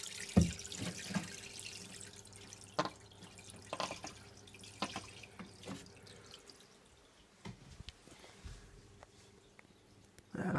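An aquarium filter churns and splashes the tank water close by, giving irregular bubbling and dripping bursts over a quiet background.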